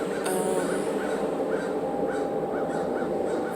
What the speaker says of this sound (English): I hear the crows speaking in the trees just off to this section